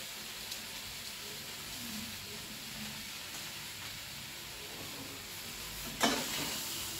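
Chili powder and spices sizzle steadily in a hot pan while being stirred, a soft continuous hiss with a brief louder scrape or clatter near the end.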